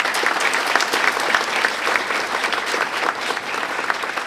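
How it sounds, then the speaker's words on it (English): At a high school graduation ceremony, a large audience breaks into loud, sustained applause, a dense wash of clapping that holds steady throughout, with a murmur of voices underneath. "Let's give them a round of applause."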